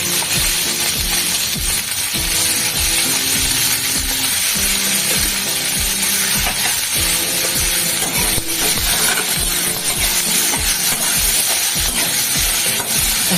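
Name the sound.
food frying in a pan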